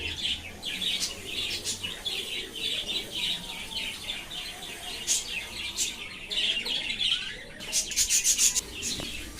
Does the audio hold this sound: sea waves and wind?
no